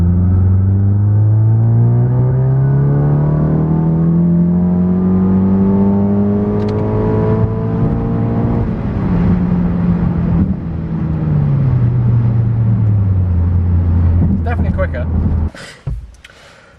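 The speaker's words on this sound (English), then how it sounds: "I'm going to do a 3rd gear pull." VW Golf GTI tuned toward 500+ bhp, pulling hard in third gear: loud, close engine and intake note rising steadily for about nine seconds, dropping briefly at a shift, then climbing again before cutting off near the end.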